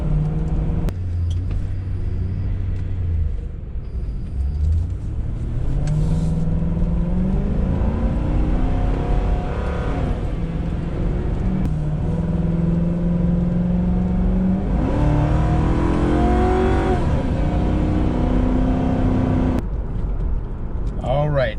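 An auction-bought car driving slowly off-road, its engine rumbling and rising and falling in pitch as it moves over rough ground, steady and close throughout.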